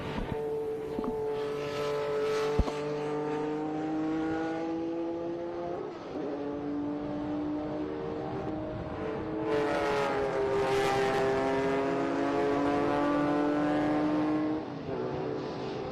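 Air-cooled Porsche 911 race cars lapping a circuit, engines howling loudly and continuously as they climb and drop through gears, with sweeping rises as cars pass close and others snarling further off.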